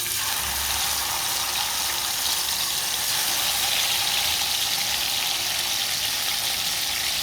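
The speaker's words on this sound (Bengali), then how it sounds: "তেল দিয়ে দিয়েছি, এখন মাছটা দিয়ে দেব।" Tilapia fish frying in hot oil in a pan on a home stove, giving a dense, steady, close sizzle that barely changes in level throughout, with no one speaking.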